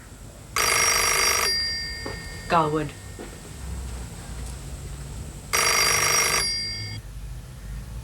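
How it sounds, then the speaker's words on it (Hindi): An indoor telephone bell rings in two long, loud bursts separated by a few seconds, with a brief spoken exclamation in the gap between them. "आपा का फोन है, आप जाके सुनिए।"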